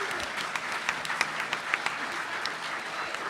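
Audience applause at a convention voice-actor panel, a soft, fairly distant patter of clapping hands with scattered sharper claps, lasting a few seconds.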